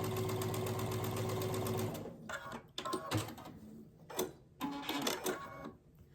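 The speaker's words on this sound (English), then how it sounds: "I'm going to stitch this one down that side to connect them at 1/4 inch." A sewing machine runs steadily, stitching quilt pieces together at a quarter-inch seam. After about two seconds it stops, leaving quieter handling sounds and brief rustles.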